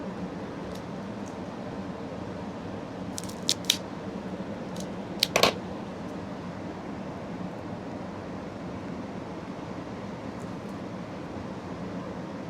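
A cigar cutter snips the cap off a Foundation Olmec Maduro cigar, giving a couple of quick, crisp clicks in the middle of the clip over a steady, low background hiss.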